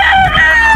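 A rooster crows loudly and close by on a gamefowl farm, one strained, sustained call filling the short moment.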